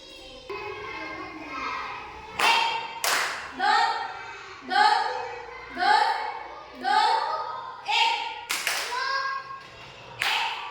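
Schoolchildren clap during a concentration game in class, sharp hand claps cutting through rhythmic chanted counting from children's voices.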